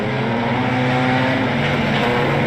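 Wingless sprint cars racing at Timmis Speedway in Mildura, a loud continuous engine roar with sustained revving tones as the pack runs close by.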